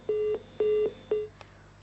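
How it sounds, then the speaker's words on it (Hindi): Three steady telephone beeps sound as a phone call is cut off, each a clear, even tone with short gaps between, followed by a faint click. "फोन काट दिया है वंदना जी ने"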